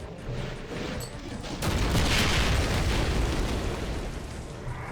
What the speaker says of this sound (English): Ooh, but I do have grenades.